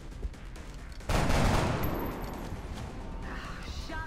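A sudden burst of gunfire in the XCOM video game erupts after a quieter stretch, a dense loud crackle that gradually fades, with game sounds around it.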